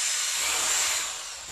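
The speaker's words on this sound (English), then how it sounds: "I might want to drill the rest of the hole out further this direction just to make sure it's flawless" A drill bores out a hole in an LED hula hoop, giving a bright, airy hiss of bit on plastic that swells briefly and then eases off, close and with no talking.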